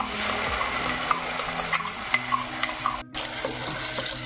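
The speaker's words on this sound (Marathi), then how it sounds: "छान आपण याला मस्त असं हलवून घेणार आहोत।" Ground peanut paste mixture cooking in a pan over a medium flame, stirred with repeated scraping strokes over a low sizzle, close by with no talking.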